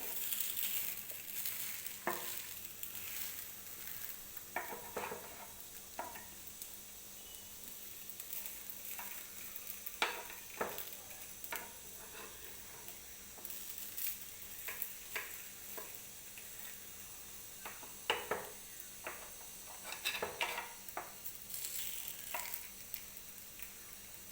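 Rice dumplings (appe) made from leftover rice fry in an appe pan, giving a steady soft sizzle with scattered crackles and pops across the whole stretch, and no voices.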